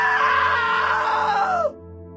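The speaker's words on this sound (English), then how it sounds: "Now that was a great scream." A woman's loud, sustained scream in the video game What Remains of Edith Finch, trailing downward in pitch before cutting off abruptly, with a low music bed continuing underneath.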